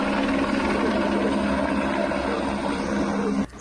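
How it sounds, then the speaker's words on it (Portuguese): A police helicopter flies overhead during a civil police operation, its rotor throbbing in a loud, steady beat with a continuous engine drone that cuts off abruptly at the end. "contaram com o apoio de um helicóptero para monitoramento aéreo"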